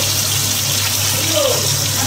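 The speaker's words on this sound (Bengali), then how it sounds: "প্রচন্ড বৃষ্টি হচ্ছে বাইরে।" Steady, dense hiss of heavy rain falling outside during a home kitchen session cooking hilsa fish with potatoes, a continuous wash of noise at even loudness with no voices.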